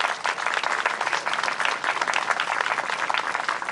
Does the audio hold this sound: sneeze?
no